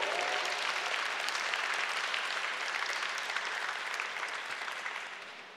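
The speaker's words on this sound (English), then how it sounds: "please honor me by giving my father a loving round of applause" An audience at a forum claps in warm sustained applause, dense and fairly distant, gradually tapering off toward the end.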